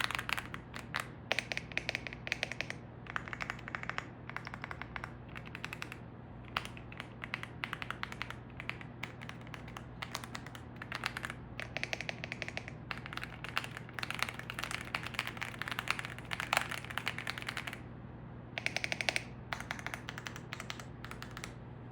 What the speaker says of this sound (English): I do like the sound of this keyboard.